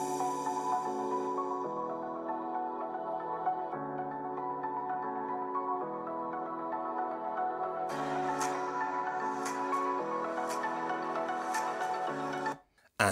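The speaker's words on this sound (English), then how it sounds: "Speaker test of the new XPS 14," A Dell XPS 14 (9440) laptop's 8-watt four-speaker system plays melodic music at 50% volume. Clear sustained tones shift in steps, with brighter accents later, and there is no talk.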